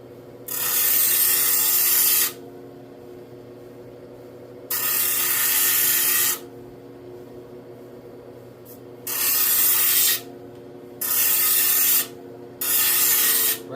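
A ruby stone is ground into shape on a lapidary machine: five bursts of harsh, hissing abrasion of a few seconds each over a constant low motor hum, close and loud.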